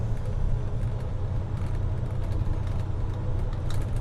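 Steady low drone of a semi truck engine cruising on a highway while shifting up to tenth gear, even and close with no sharp changes.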